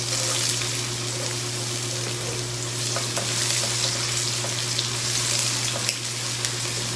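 Onions fry in a pan with a steady, close sizzle and crackle, over a faint constant hum and no talk.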